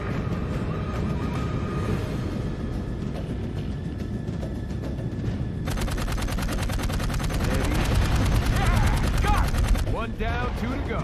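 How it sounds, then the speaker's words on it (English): Pack-mounted guns on a flying soldier in the sci-fi shooter game Dark Void fire in sustained rapid bursts, loud and close, with a denser barrage swelling midway, mixed with game sound effects. "Use the guns on your pack."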